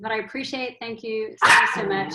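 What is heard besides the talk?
dogs barking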